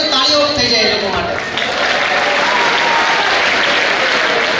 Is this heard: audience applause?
yes